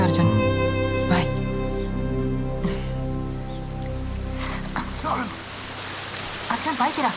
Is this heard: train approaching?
no